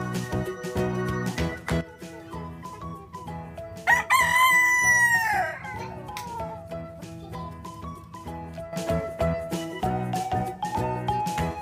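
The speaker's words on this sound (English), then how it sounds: "Rooster." A cartoon rooster gives one loud, drawn-out crow in a children's animal-learning cartoon. It rises over a bouncy musical backing and fades back into the tune.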